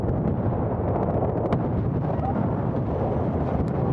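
Rocket explosions rumble through a Battlefield: Bad Company 2 match on Atacama, a dense, continuous low roar of blasts and distant bangs with no clear break, loud and close.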